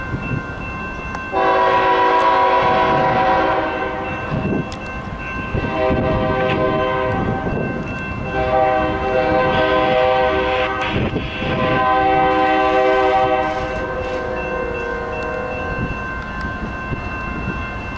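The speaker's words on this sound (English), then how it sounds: "We got a BNSF power move coming." A BNSF locomotive power move rolls past loudly, its multi-chime horn blaring in several long blasts over the steady rumble and clatter of the engines.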